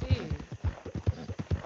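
Horse hooves clip-clop at a steady trotting rhythm in Red Dead Redemption, in the busy town of Saint Denis, up close and distinct while a voice talks over them.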